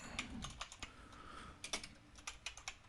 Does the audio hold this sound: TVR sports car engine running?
no